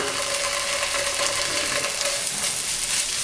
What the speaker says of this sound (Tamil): இஞ்சி பூண்டு பேஸ்ட் போட்டு ஒரு நிமிஷம் வதக்கிட்டேங்க